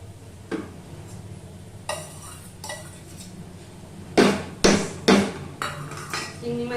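Prawns tipped into a cooking pan of oil, onions and mashed potato, followed by a few sharp clanks and scraping spatula strokes against the metal, close and moderately loud with a low background hum.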